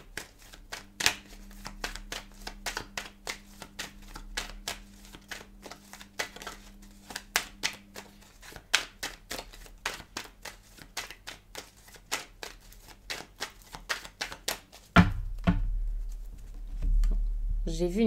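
Oracle des miroirs cards being shuffled by hand, a long run of sharp rhythmic riffling taps up close, followed near the end by a louder rustle of handling.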